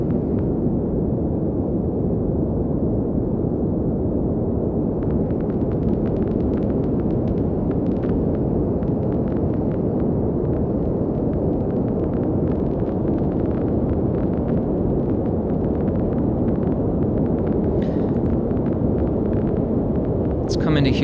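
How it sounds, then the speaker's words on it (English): A synthesizer patch runs through a vinyl distortion effect, giving a dense, steady hiss and rumble; sharp crackling ticks join partway through as the effect is switched, and the noise stays loud throughout. "listen to the sound, and then I'm going to turn off vinyl distortion, and then I'm going to turn it back on."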